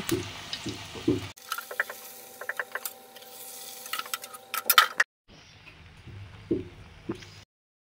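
Luchi puris deep-frying in hot white oil in a kadai on a gas stove, giving a busy bubbling sizzle with scattered clinks and stirring noises, broken by abrupt cuts and ending in silence.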